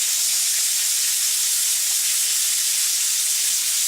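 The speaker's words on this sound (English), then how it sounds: "it's just spitting out steam" A pressure canner processing salmon spits out steam as a loud, steady, broadband hiss that holds without pause from start to finish.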